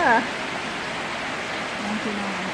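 Steady rain falls with a soft, even hiss throughout, while someone speaks briefly at the start and again near the end in the background.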